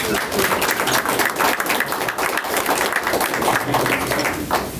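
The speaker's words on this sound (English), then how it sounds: "Let's give Marion another round of applause." Steady round of applause from a school board meeting audience, dense clapping filling the room without pause, with faint voices mixed underneath.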